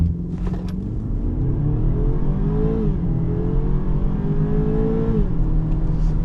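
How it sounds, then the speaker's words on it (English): A 2023 BMW X3 xDrive30i under light acceleration on the road: a steady, loud engine drone with a rising pitch that climbs through gears, dipping briefly at each shift, with road rumble underneath and no talk. "So we're gonna do a light acceleration real quick."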